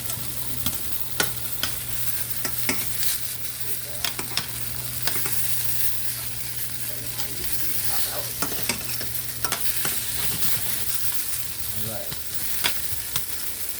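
Oxtails browning in a hot pan make a steady, dense sizzle and crackle with scattered pops and occasional scrapes of a utensil. A low hum runs underneath, close and continuous, without speech.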